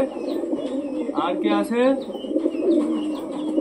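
Domestic pet pigeons at a home coo in low, rolling phrases close by while a person speaks over them.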